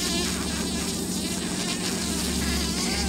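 Native stingless bees from one hive buzzing as two of them fight, a loud, dense, continuous insect drone close by with a faint voice beneath it.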